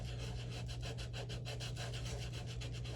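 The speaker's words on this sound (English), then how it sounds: "take sandpaper and dip it in the solution. And we just lightly rub it on there in circular motions" Sandpaper dipped in a cleaning solution is rubbed lightly over a shoe in circular motions to lift marker, giving a steady rhythmic rasping scrape that repeats several times a second over a constant low hum.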